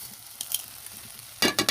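Spices, salt, turmeric, chili and coriander powder frying in oil for a prawn curry give a soft, steady sizzle with light stirring scrapes, ending in a few louder, close clattering bursts.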